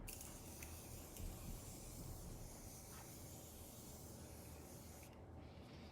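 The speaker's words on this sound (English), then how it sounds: "Continuous Setting Mist by Morphe. One of the best. I just love how fine spray this is." Morphe Continuous Setting Mist sprays onto a face as a soft, fine, continuous hiss lasting several seconds, faint and close, ending abruptly.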